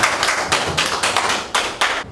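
Audience at a lecture hall seminar applauding a lecturer as he is introduced, a dense, steady wash of many hands clapping with a few louder surges over about two seconds.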